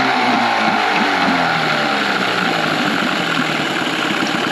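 A two-stroke outboard boat engine idles steadily up close, its low, even putter running continuously without any voices.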